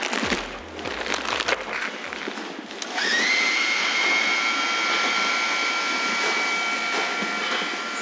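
A vacuum hose sucks air across a catamaran build table, a steady whining rush that starts after a few seconds of clunks and rustles and then holds loud and unbroken.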